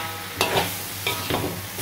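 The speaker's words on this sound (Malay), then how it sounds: "goreng kunyit." Beef liver frying with turmeric in a pan, a steady close sizzle broken by a few short scraping stirs.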